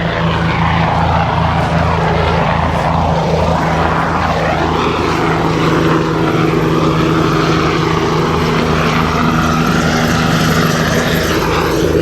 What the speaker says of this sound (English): Yeah, it's a police helicopter